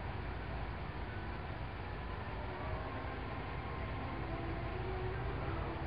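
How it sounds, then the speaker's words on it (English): Old film soundtrack of an ore train leaving the Consett ironworks, a steady dense rumble and rattle of wagons rolling along the rails, continuous and fairly loud with no talk. "the doors are closed, and the train goes back to Tyne Dock to collect further supplies of ore"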